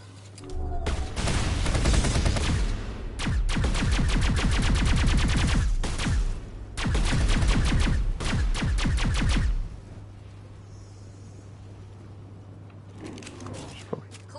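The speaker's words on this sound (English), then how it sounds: "Nice shot. Sniper even with a pistol." Pistol gunfire from the video game Mass Effect: bursts of rapid, loud shots in several clusters over a steady low hum, with the firing stopping partway and leaving quiet background tone.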